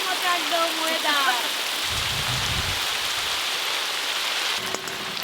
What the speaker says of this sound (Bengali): বৃষ্টি খুব জোর হচ্ছে।